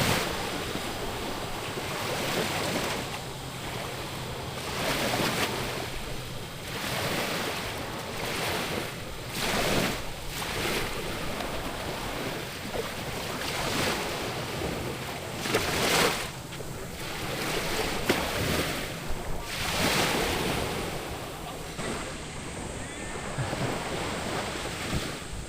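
Sea waves washing ashore at a clear-water beach resort in San Juan, Batangas, with a steady broadband surf wash and wind rumble across the whole stretch, recurring swells of louder surf, and no talk.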